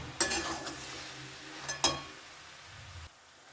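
Cabbage curry with fish head, sprinkled with dry flour, is stirred in a pan: two brief scraping strokes with a soft sizzle underneath, close and fairly quiet.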